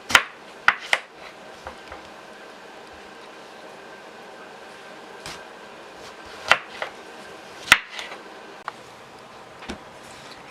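Knife slicing cucumbers on a cutting board for dill pickles, a few sharp, scattered cutting taps with long gaps between them, close and fairly quiet over a faint background hum.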